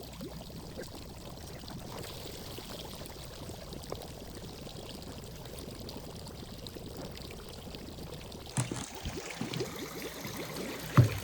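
Water pouring and trickling steadily through a homemade pond filter, a constant close splashing stream with a few louder knocks and bumps near the end.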